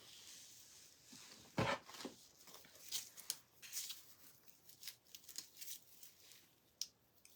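Faint snipping and crinkling as scissors cut through an artificial evergreen stem embellishment meant for a handmade card, with a few sharper cuts among soft rustling.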